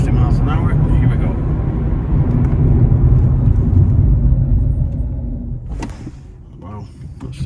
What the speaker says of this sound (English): Sharp braking, we're just under 50 miles an hour.